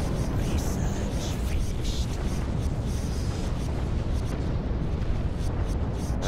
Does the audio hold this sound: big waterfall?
no